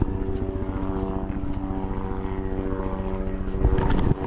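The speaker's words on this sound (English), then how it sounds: "There's a helicopter flying over" A helicopter flies overhead on a hike on Vancouver Island, a loud rhythmic blade thump with a steady engine drone that holds throughout and swells slightly near the end.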